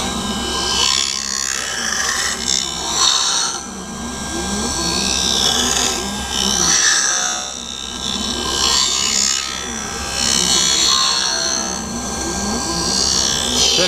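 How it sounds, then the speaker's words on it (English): An optical lens edging machine puts a bevel on a polarized gray prescription lens for Ray-Ban 4057 glasses, giving a steady close grinding and rasping that swells and eases in slow waves over a constant low hum. "Now it's going to move over and get the bevel put on there."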